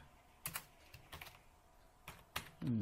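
Keys on a computer keyboard tapped in a few quick bursts during desktop publishing work, faint and close, with no talk over them.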